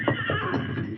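A horse whinnies loudly and close, a short shrill neigh with a rough, quavering edge and no speech over it, in a 1951 Lone Ranger radio drama.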